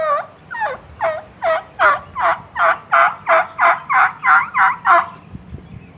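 A hunter's mouth call imitates a wild turkey gobble: a rapid, rhythmic run of about a dozen rattling notes, fairly loud and close, with no other sounds around it.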